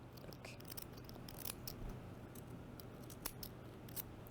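Large scissors cut through fabric in a sewing lesson, giving quiet crisp snips and rustling over a low steady hum, faint and close.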